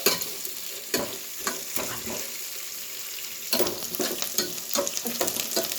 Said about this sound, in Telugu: ఆనియన్, అలాగే పచ్చిమిర్చి అయితే ఇలా వేయించాలండి